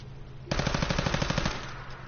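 Rapid automatic pistol fire in the video game Fallout 4, a loud one-second burst of about a dozen evenly spaced shots that starts abruptly and cuts off, leaving a low ambient hum.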